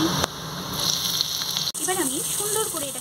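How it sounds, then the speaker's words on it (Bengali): Chopped onions fry in a pan of oil with nigella seeds and minced garlic, a steady close sizzle that runs throughout while someone talks over it. "পেঁয়াজটাকে ভাজা ভাজা করে নিই"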